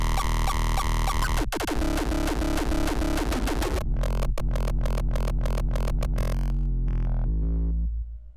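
Heavy electronic uptempo kick drums thump with deep booming bass, first in a dense sustained stretch, then as a series of separate punchy hits that thin out and stop.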